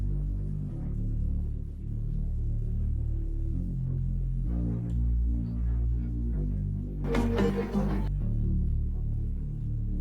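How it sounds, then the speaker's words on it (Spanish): A sustained reggaeton bass plays long, slow melodic notes without sidechain pumping, holding low pitches that shift every second or two under a faint backing layer, with a short bright burst near the end. "Este es literalmente sostenido y haciendo melodías largas y lentas."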